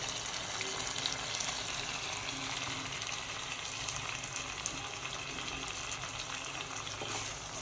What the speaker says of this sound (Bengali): এবার আমি জল দিয়ে ঢাকা দিয়ে দেবো।